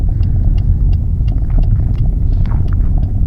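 A hybrid car coasting on the road with the driver off the gas, heard from inside as a steady, loud low rumble of road and tyre noise with faint engine hum throughout.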